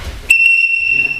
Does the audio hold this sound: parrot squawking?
no